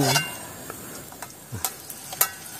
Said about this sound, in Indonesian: goreng kerang